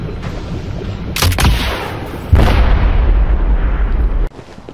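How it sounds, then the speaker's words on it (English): Bane's rocket launcher in an Arkham video game fires with a loud explosive boom, then a second heavier blast and a sustained rumbling roar that cuts off abruptly. "Bane is equipped with a devastating rocket launcher."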